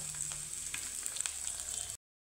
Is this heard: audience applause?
no